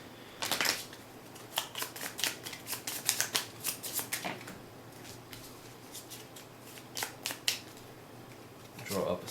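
A deck of cards for the Shadowrun Crossfire deck-building game being shuffled by hand, a run of crisp riffling bursts and flicks close up, with a person talking around them.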